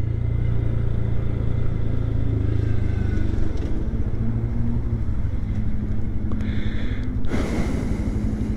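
A 2025 Honda Grom motorcycle riding up steep back roads, its small engine giving a continuous close rumble with wind noise, the pitch shifting slightly as it climbs.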